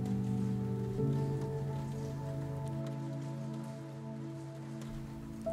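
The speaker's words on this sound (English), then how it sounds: "The gentle patter of raindrops on the boathouse" Rain patters steadily on a boathouse at night, a soft continuous wash of drops over a low sustained tonal drone, with no voices.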